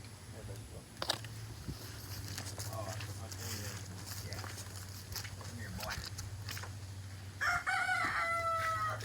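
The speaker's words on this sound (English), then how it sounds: "This is my chicken." Backyard chicken heard in a tree nursery setting: a rooster crows and clucks sound at moderate distance, with a steady low hum and footsteps beneath, and a brief louder bird call near the end; people talk nearby.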